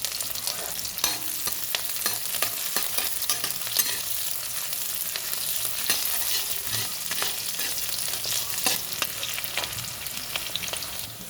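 Onion and garlic fry in oil with a continuous bright sizzle while a spatula stirs and scrapes the pan again and again. The sound is close and steady, with no talking.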